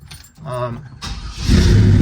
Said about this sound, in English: Truck starts right up, so we're looking good there.